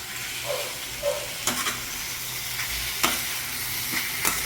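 Chili powder is stirred into potato slices frying in a pan, a steady close hiss of hot oil broken by a few light scrapes of the spatula, with no one talking.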